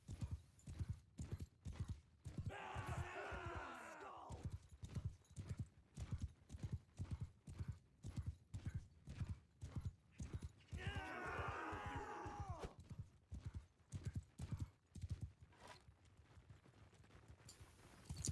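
Cavalry horses in a battle game gallop in a rapid, continuous drumming of hooves that runs throughout. Two bursts of horse whinnying or neighing rise above the hoofbeats partway through.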